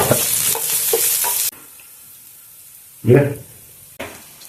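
Carrots and frozen peas hitting a hot pan for a vegetable jalfrezi, a loud hissing sizzle followed by quieter frying and short bursts of stirring scrapes.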